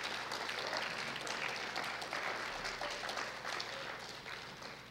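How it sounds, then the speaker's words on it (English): A round of applause from a lecture audience honouring high school instructors, a steady wash of many hands clapping at moderate distance that holds through to the end. "Could I get a round of applause and appreciation for your"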